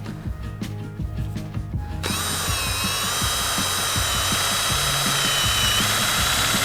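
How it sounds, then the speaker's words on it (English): A power drill bores small holes into a tree trunk. Brief wooden knocking and handling comes first, then the motor spins up into a steady whirring grind that runs close and continuous to the end. "we start by drilling small holes in so that we can put ports in."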